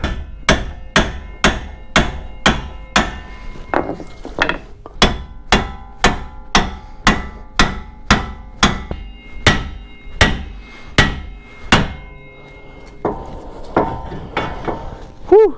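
A hammer strikes hard and repeatedly to drive a puller tool into the control arm of a GMC Yukon or Chevy Tahoe, about twenty sharp metallic blows in a steady rhythm, loud and close, ending with a clatter.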